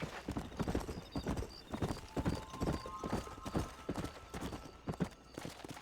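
Galloping horse hooves in the Western video game Red Dead Redemption, a steady fast clip-clop rhythm that runs throughout at moderate level, with a brief whinny-like tone partway through and no talking.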